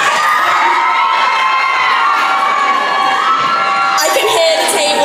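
A table of medical students cheering and whooping at a medical school ball, a loud, sustained crowd roar of shouts and cheers that swells further near the end.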